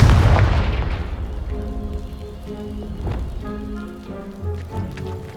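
A Confringo spell explosion in Hogwarts Legacy blasts apart a pile of debris, with a loud booming impact at the start followed by a rumbling, crackling tail of settling rubble under a soft musical score.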